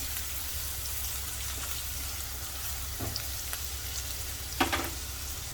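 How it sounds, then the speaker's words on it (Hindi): A steady, soft sizzle of onion, crushed ginger and garlic frying in a hot pan, with a few faint clinks and stirring noises near the end. "उसके बाद इसमें डाल देंगे अदरक लहसुन कुटी हुई"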